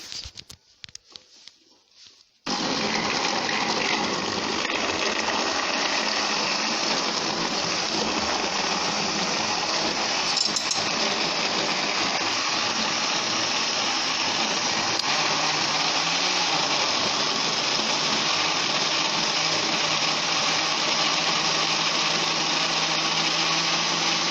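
A kitchen blender runs continuously on onions, pepper, fresh tomatoes and water for egg stew, a loud, steady whirring roar that starts abruptly after a brief fumbling noise and holds for over twenty seconds.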